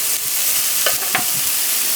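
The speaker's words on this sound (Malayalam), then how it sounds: "സവാളൊക്കെ ഇട്ട് നമുക്കൊന്ന് എന്ത് ചെയ്യുക, നന്നായിട്ട് വഴറ്റിയെടുക്കാം" Onions being stirred and sautéed in a pan for pepper chicken, a steady close sizzle with a few soft scraping strokes of the spoon partway through.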